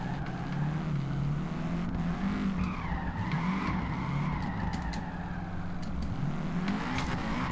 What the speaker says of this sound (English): There's me and my little GT86 trying to fucking get enough power to actually slide my fucking tires,